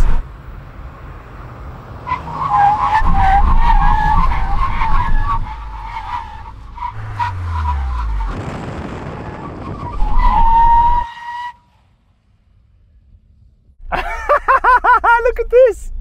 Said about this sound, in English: When we reach the cones, full emergency stop.